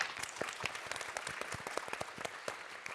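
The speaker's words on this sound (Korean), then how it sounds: "박수로 맞이해 주시기 바랍니다" An audience claps to welcome a university president onto a televised panel stage, a brisk, fairly faint patter of many separate hand claps spread across the room, continuing steadily without talk.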